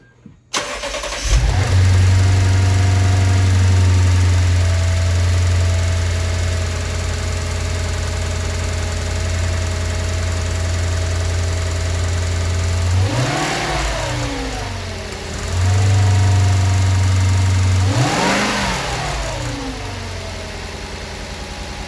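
A Lexus IS F starting up after its MAF sensor and throttle body were cleaned: the starter cranks, then the engine flares to a loud, close idle that settles, with two brief throttle blips later on.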